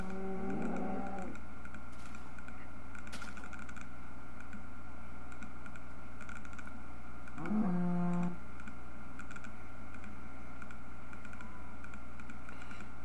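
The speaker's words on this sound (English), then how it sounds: "And the cows begin." Cows in the Minecraft video game moo twice, a lowing call at the start and another later, over steady computer keyboard typing and clicking from the player.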